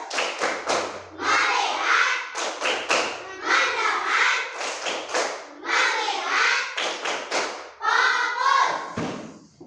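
A group performs the 'tepuk fokus' clap chant, sharp rhythmic hand claps in short bursts alternating with voices chanting together, close and loud throughout.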